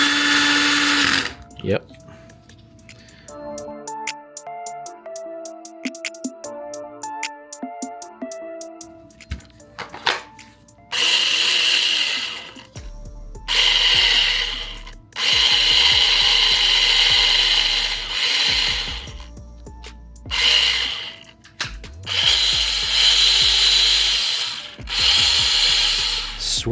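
A cordless drill fitted with a hacked-in brushless motor drives screws on its weakest setting, in loud bursts of whirring that stop and start several times after a quieter opening stretch, and a voice speaks briefly.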